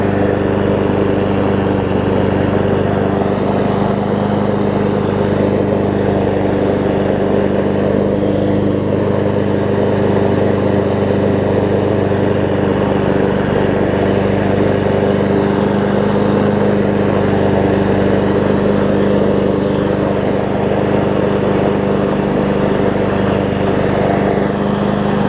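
A Honda engine on a Craftsman self-propelled push mower runs steadily after a warm start, a loud, even drone that holds for the whole stretch with no talking.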